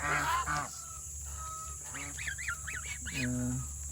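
Peking duck crossbreed honking nearby on a farm, several nasal rising-and-falling calls in quick succession, with a voice speaking briefly at the start over steady background noise.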